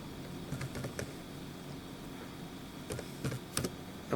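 Someone types HTML on a computer keyboard in scattered bursts of quick, light key clicks, close and fairly quiet, with brief pauses and no talking.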